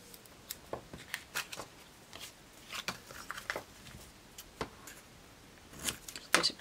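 Scissors trimming paper for a junk journal envelope, quiet scattered snips and light rustling of paper at close range, irregular and soft throughout with no speech.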